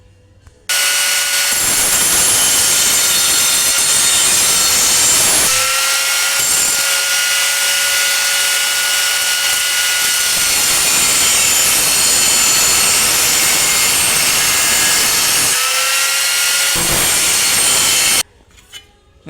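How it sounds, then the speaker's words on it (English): Close, loud grinding cut into car body metal on a rust-repair rebuild of a Chrysler Valiant AP6, a steady high whine held for about fifteen seconds with brief dips, then stopping. "So now I'll just cut a very fine groove in there"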